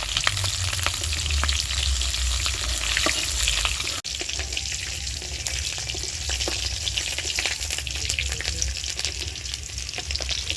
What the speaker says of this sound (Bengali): ক্যাপসিকামটা ভেজে নিই।